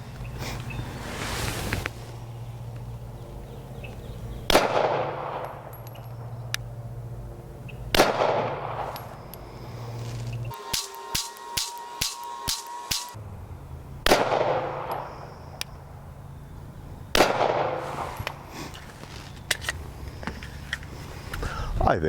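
A Glock 48 pistol fed from 15-round Shield Arms magazines fires 124 grain Federal ammo at 15 yards. Sharp, loud cracks come one at a time at irregular intervals, with a quicker string of lighter reports partway through and faint talk between shots.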